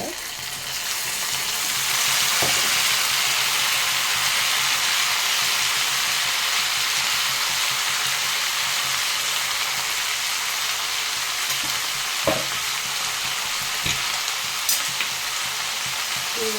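Tomato gojju fries in hot oil in a pan and is stirred, producing a steady, close sizzle that runs throughout, with occasional light clicks and scrapes of the stirring spoon.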